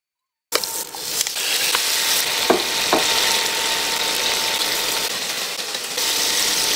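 Shrimp frying in butter in a pan, giving a steady, loud sizzle that starts abruptly and continues with a few faint clicks of utensils.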